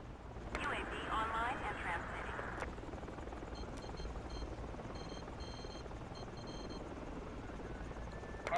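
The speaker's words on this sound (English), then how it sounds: "Enemy helicopter spotted." A helicopter's rotor chop and engine whine in the video game Battlefield 2 hum steadily in the background while a voice talks over it, with short electronic beeps.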